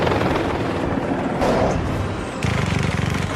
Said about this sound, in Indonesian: Sebuah helikopter datang mengejarnya.